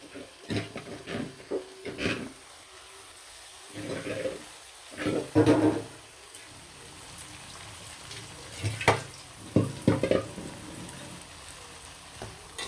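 Spiced marinated meat stirred in a frying pan, a continuous close sizzle broken by repeated scraping and stirring bursts in irregular clusters, with a voice speaking at times over the cooking.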